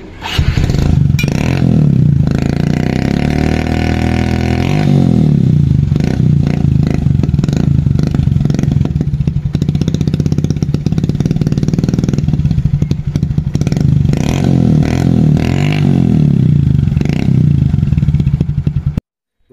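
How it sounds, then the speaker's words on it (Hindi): A modified Honda CB Twister 110cc motorcycle runs without its dB killer, a loud, close, raspy exhaust idling and revving with popping and crackle before it suddenly cuts off at the end. "अब विदाउट डीबी किलर सुन लीजिए आवाज"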